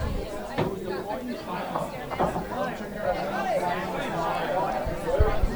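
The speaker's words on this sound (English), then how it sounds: "just let us know if the crowd noise is overbearing" Continuous crowd chatter and babble fill a darts venue, with several voices overlapping and a rowdy back table, steady and moderately loud throughout with occasional louder bursts.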